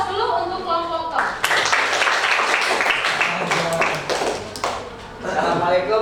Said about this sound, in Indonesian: kasih aplaus dulu untuk kelompok tong